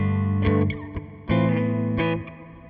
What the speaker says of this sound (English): we get to our hall reverb, which is a bigger, more ambient reverb